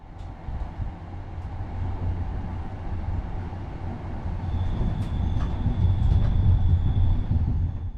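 A RegioJet train pulls out of Wien Hauptbahnhof, low rumble of wheels and carriage building steadily inside the coach, with thin high squeals and clicks toward the end.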